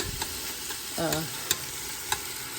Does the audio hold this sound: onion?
yes